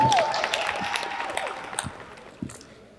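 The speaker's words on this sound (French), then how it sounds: "vous pouvez vous applaudir" Audience applause at a French stage show's final episode, fading from a dense wash of clapping to scattered claps over three seconds, with no talk.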